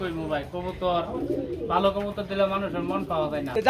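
Pigeons on a pigeon farm coo in low, rolling, repeated phrases, loud and close, with a brief pause midway and soft voices mixed in.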